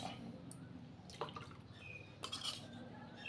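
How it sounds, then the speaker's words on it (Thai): Lime juice is poured into a Thai spicy pork-bone soup, heard as a couple of faint, brief splashes and drips in a quiet kitchen. "ผมใส่ น้ำมะนาวนะครับ ลงไปเลยนะครับ"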